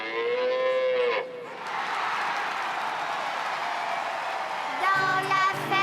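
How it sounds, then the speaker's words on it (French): Cows mooing in a children's French farm song: a long, loud lowing moo, then a sustained stretch of mooing sound, with a sung or voiced bit returning near the end. "Il y a des meux par là, il y a des meux par ici, des meux par là"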